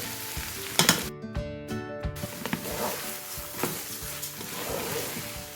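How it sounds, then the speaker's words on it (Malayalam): Washed, drained jeerakasala (kaima) rice stirred into sizzling biryani masala in a pan, with scraping spoon strokes and clinks over a steady frying hiss, plus a brief rattle near the start. "ഇനി ഇതിലേക്ക് ഞാൻ ഈ കഴുകി ഊറ്റി വെച്ചിരിക്കുന്ന അരി ഇട്ടിട്ട് ഇളക്കി കൊടുക്കാം."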